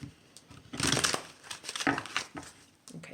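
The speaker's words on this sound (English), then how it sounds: "I'm just going to cut real quick the deck and then just do another little shuffle" Tarot cards being cut and shuffled, with a few quick crisp riffling and crinkling bursts, close and fairly soft, with short pauses between them.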